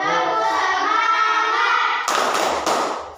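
Primary school children in a fifth-grade science class perform a group clapping routine: about two seconds of loud unison chanting voices, then a few sharp, closely spaced claps from the whole class in rhythm.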